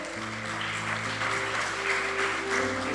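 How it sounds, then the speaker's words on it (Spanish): Church congregation applauding during a Spanish-language sermon, a brief, even wash of clapping with sustained musical tones underneath. "Dele un fuerte aplauso al Señor."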